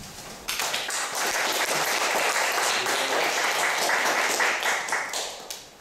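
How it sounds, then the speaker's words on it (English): An audience applauds to welcome a speaker at a talk in Gwangju, a dense, even burst of clapping that starts abruptly and holds steady for several seconds before tapering off. "please welcome Jordan with applause."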